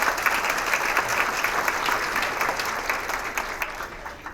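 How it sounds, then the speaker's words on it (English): A luncheon crowd in Torrance, California gives sustained, dense applause, a loud wash of many hands clapping at once that tapers slightly toward the end, with no voices on top. "Yes, applause is appropriate, very much so."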